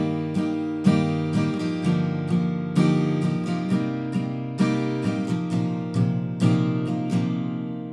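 Acoustic guitar strumming a chorus in a down-down-down-down-up pattern, clear evenly spaced chord strokes in a steady rhythm, played close and alone.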